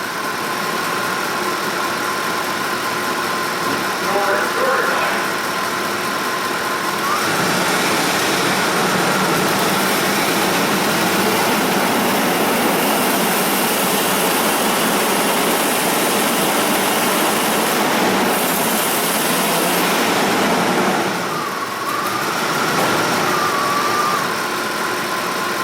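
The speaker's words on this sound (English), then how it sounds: "I'm going to go ahead and rev it up again, get that battery nuked." A Ford engine with a non-charging Smart Charge alternator runs steadily up close. The pitch rises slightly for a stretch in the middle, then settles back toward idle.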